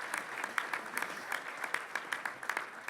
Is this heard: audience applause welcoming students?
yes